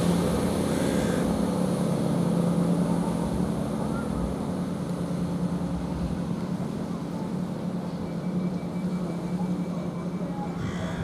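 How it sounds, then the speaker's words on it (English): A Class 170 cross-country diesel multiple unit pulls out of Ely station, its exhaust a steady, loud, low engine drone that holds throughout, with faint voices nearby. "You really heard that exhaust on that cross-country"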